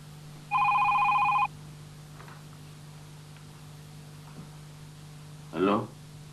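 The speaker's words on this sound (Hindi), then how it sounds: "उठाओ फोन, उठाओ, दो जवाब।" A telephone rings indoors in a Pakistani drama scene: one short, bright electronic ring burst, then a quiet room with a low steady hum and a brief voice near the end.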